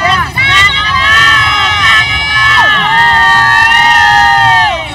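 Carnival street crowd cheering and shouting loudly, many voices whooping and calling out together in a dense, continuous roar close by.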